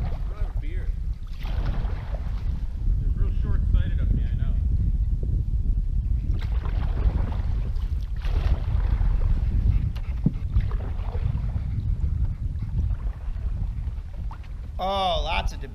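Canoe paddled slowly along a debris-strewn river, with steady wind and water wash dominating and faint paddle strokes, while people talk quietly underneath.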